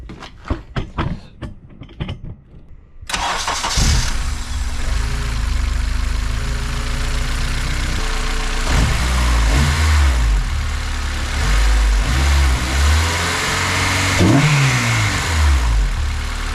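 A K-swapped 2002 Honda Civic EM2 with fresh RDX 410cc injectors cranks briefly, catches and settles into a loud, close idle, with several throttle blips rising and falling through the run.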